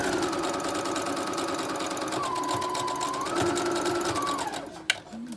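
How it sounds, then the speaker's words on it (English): A sewing machine runs a long gathering stitch on the sleeve of a plain white tee, humming steadily and close for several seconds before slowing and stopping with a soft clunk. "with a long machine stitch that I can pull to gather it"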